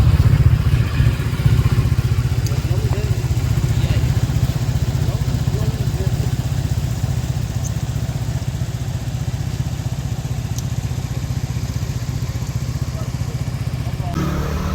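A motorbike rides along a road on the way to the Dexing Waterfall in Taiwan, its steady engine drone and road rumble loud and continuous throughout, with wind noise and light clatter and no talk.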